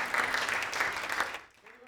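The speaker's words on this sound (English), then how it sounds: "Give her a round of applause." Audience applause at a behavioral health panel in Hawai'i welcomes a panelist, loud dense clapping for about a second and a half before it quickly tapers off.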